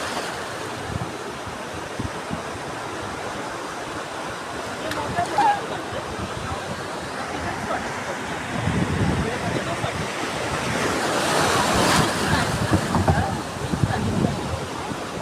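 Sea waves at a big full-moon high tide washing onto the shore, a continuous rushing surf with wind noise that swells louder toward the end, heard close up without talking.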